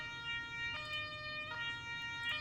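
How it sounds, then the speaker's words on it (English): Vehicle siren in the driving game Drive Beyond Horizons, a steady electronic wail with sustained harmonic tones at moderate level, pulsing slightly every three quarters of a second, with no talk over it. "What we have done is deattach our siren."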